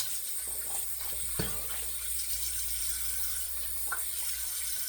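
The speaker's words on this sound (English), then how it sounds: "we'll rinse our hands really, really well" Steady running tap water pours into a sink while hands are rinsed, with a constant close hiss and occasional small splashes.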